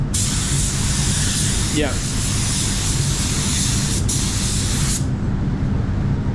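Air blower drying fresh spray paint on a car between coats, a loud, steady close hiss running unbroken for several seconds before cutting off, with a brief spoken word over it.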